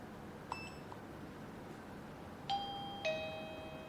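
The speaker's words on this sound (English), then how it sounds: "If the indoor unit make ding dong sound, the code pairing success." A VStarcam D2 indoor doorbell unit gives a soft electronic ding-dong chime, two clear ringing tones in quick succession after a faint earlier blip, heard over a quiet room hiss.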